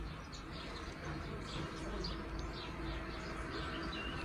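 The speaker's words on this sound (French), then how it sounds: "depuis qu'on est en confinement, on entend vachement plus les oiseaux" Faint bird chirps repeat through the clip over a low outdoor rumble, quiet and a little distant.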